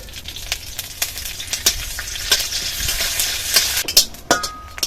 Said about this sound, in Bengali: এবার গরম কড়াইতে সাদা তেল দিয়ে এখানে কিছুটা আমি কারি পাতা নিয়েছি